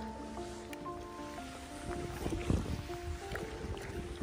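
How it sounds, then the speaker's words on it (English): A Crescent CK1 kayak paddled up a quiet inlet of Lake Mississinewa in Indiana: soft, faint water swishes and drips from paddle strokes under light wind, with thin high tones in the background. "Paddling up."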